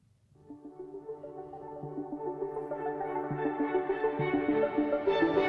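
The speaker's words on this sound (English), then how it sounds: "So that's the string section, and it is joined by this ARP." Sustained strings swell gradually while a quick synth arpeggio ripples repeating notes over them, growing louder toward the end.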